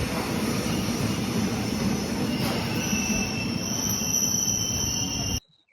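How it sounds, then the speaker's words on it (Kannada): A train from Shivamogga pulls into Heggere halt station, steel wheels squealing continuously over a steady loud rumble of rolling cars before the sound cuts off abruptly. "ಶಿವಮೊಗ್ಗದಿಂದ ಹೊರಟಿದ್ದ ಟ್ರೈನು ಈಗ ಹೆಗ್ಗೇರೆ"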